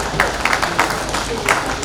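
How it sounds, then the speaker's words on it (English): An audience claps at a formal launch event for tolling on a Nigerian highway, a dense, steady patter of many hands that stays loud and even throughout, with some crowd murmur underneath. "Please, let's clap for this great man"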